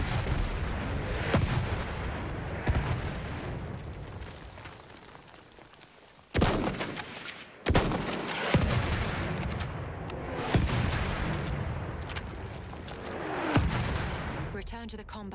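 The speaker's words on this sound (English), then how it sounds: "Wait for the enemy artillery barrage to stop firing." An artillery barrage in the video game Battlefield 1 booms repeatedly, with heavy blasts and gunfire crashing at irregular intervals over a constant rumble of battle, while voices talk underneath.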